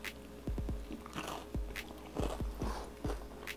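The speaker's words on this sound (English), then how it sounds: "You can hear the crunch." Bites into an open-faced sandwich of spicy smoked tinapa with mayonnaise, topped with crispy cornick, give a series of sharp, close crunches in an uneven rhythm, with chewing between them.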